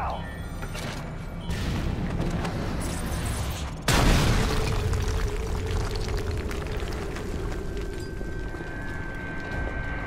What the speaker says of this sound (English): Гранаты!